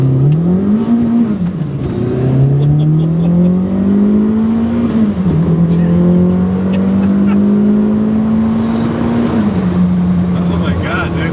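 Toyota MR2 accelerating hard, a loud engine drone climbing in pitch through several gears with brief drops at each shift, heard from inside the car over road noise and a faint voice.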